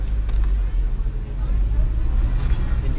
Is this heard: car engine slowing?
yes